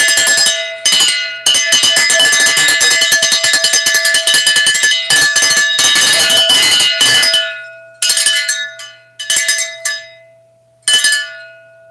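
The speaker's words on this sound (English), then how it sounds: "Let's do a ring. I ring this bell." A hand bell rings loudly and close, first in rapid continuous shaking, then in several separate bursts with pauses in which the ring fades, and there is no talking.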